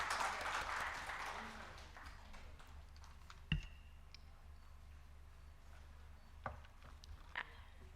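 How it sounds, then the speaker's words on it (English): Audience applause at a panel discussion on cybersecurity guidelines, faint and distant, fading out within the first couple of seconds, followed by quiet room tone with occasional sharp clicks and taps. "A great round of applause, please."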